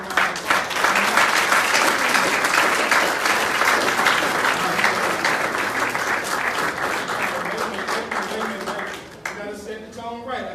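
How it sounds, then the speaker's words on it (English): An audience at a Nation of Islam event in Birmingham, Alabama breaks into sustained, loud applause and cheering that lasts several seconds before fading, with a voice coming in near the end. "Give yourselves a warm round of applause."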